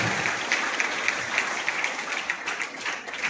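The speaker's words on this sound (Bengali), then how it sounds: "তোমরা জোরে হাত তালি দিয়ে স্বাগত আহ্বান জানাবে" A school audience at a Ramakrishna Mission assembly on Khudiram Bose's martyrdom day claps to welcome guests, dense continuous applause of many hands at an even level throughout, no voices standing out.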